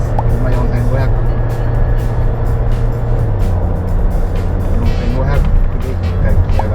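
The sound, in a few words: Suzuki Jimny JB64W engine accelerating hard on highway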